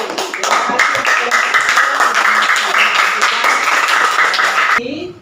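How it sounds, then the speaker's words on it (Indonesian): Classroom applause for a student presentation group, a dense burst of many hands clapping together for about five seconds, with voices mixed in, before stopping abruptly. "Tepuk tangan untuk kelompok 3."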